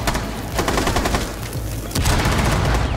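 Close, loud gunfire in the tactical shooter Rainbow Six Siege, a dense stream of rapid automatic shots with a heavier blast near the end, with no voices over it.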